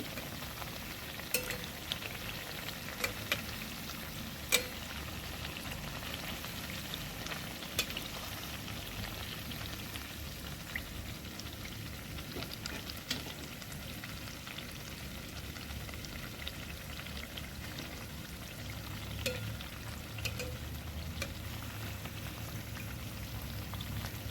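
Semolina snacks fry in hot oil with a soft, steady, rain-like crackle and scattered sharper pops, moderately quiet and continuous throughout, with no voices.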